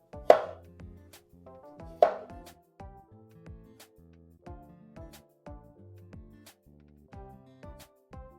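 A knife slicing garlic cloves into slivers on a cutting board gives a steady run of crisp, close taps, with two harder strikes near the start and lighter cuts after.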